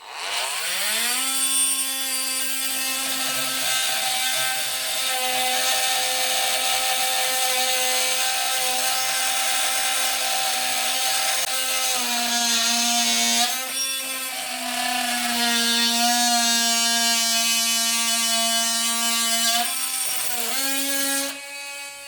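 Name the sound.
Parkside cordless multi-tool plunge saw blade cutting wood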